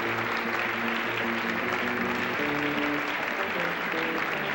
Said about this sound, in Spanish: Las despedimos con un fuerte aplauso.